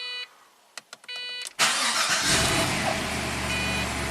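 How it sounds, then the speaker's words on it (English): A 2006 Pontiac GTO V8 cranks briefly with a few clicks and chimes, then catches and settles into a loud, steady idle that fills the rest of the recording. "Make sure this one starts the vehicle."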